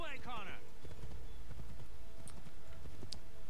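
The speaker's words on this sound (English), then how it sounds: "if all I'm doing is riding a horse" Horse hooves clip-clop in a steady rhythm during riding in the Assassin's Creed 3 video game, running under a man's speech at the start, with faint game sounds in the background.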